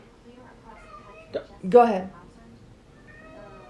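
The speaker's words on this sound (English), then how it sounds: "that's my cat" A pet cat lets out a single short meow close by, while people talk quietly around it.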